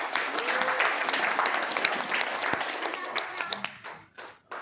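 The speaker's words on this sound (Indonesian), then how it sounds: "Boleh tepuk tangan?" Applause breaks out from an audience during a health talk, dense clapping with a few sharp individual claps, fading unevenly near the end.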